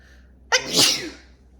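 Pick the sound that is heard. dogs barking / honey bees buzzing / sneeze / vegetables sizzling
sneeze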